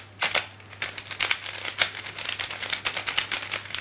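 Pink Guhong v1 speed cube being turned by hand, a rapid series of close, crisp plastic clicks and clacks in irregular bursts, loud and alone.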